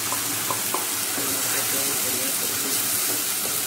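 Ground tomato, onion and coriander masala hissing as it hits hot oil in a pan for Andamani fish biryani, a steady close sizzle with faint stirring clinks and a low hum beneath.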